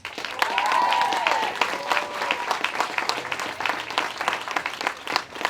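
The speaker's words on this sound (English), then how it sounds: "So give a round of applause for my sister, Masterpiece." An audience at a talk breaks into sustained applause, loud and steady at first and then thinning into scattered claps, with faint whoops and voices mixed in.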